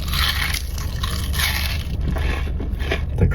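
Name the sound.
crunching on fries while eating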